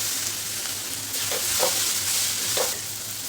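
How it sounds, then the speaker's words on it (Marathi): Ginger garlic paste sautéing in a pan for mushroom masala, with a steady loud sizzle and a few stirring scrapes of a spoon throughout. "आलं लसूण पेस्ट छान परतली आहे"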